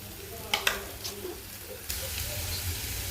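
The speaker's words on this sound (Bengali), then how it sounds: "ভালো করে ভেজে নিব" Blended onion and cumin paste frying in a pan, a soft continuous sizzle with a few clinks of a utensil and stirring, quiet and close.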